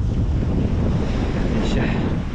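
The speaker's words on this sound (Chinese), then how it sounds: "这还是有点冷，刮风啊" Strong wind buffets the microphone on an open lakeside viewing platform at Lake Baikal, a loud, steady roaring rush that fills the whole moment without pause.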